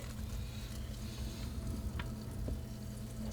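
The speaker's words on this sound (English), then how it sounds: "Get a quick shot of it sizzling." Food sizzling and frying in a pan during evening home cooking, a steady close hiss with faint stirring clicks throughout and no talking.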